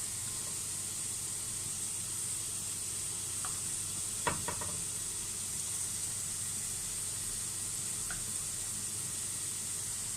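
Cumin, turmeric, red chili and coriander frying in a pan for poha give a soft, steady sizzle, faint and constant, with a couple of light clinks partway through.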